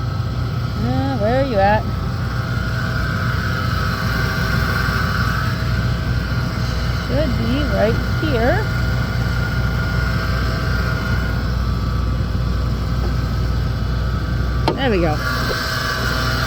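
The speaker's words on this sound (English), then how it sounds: "There's a belt noise." The 4.6 engine of an idling 2003 Ford Explorer hums steadily with a constant whining belt squeal running through it, and someone speaks briefly near the start and end.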